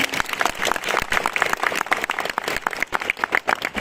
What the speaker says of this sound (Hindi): और अब अगर गवर्नर साहब के लिए तालियां बजानी पड़े तो कितनी बजाएंगे?